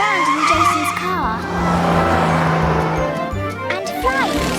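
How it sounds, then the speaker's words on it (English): A cartoon toy car zooms about with whooshing engine swoops and skidding tire squeals, mixed with bright music and a narrator talking over it. "He can zoom around in Jason's car."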